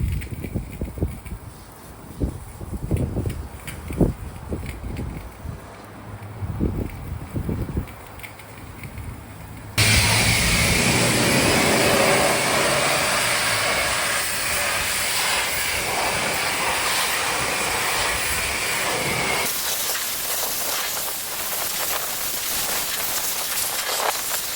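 Coin-operated power washer blasting grease off an Arctic Cat snowmobile suspension, a loud steady hiss of spray that starts abruptly after some knocking and handling noises, then runs continuously with shifting texture as the jet moves.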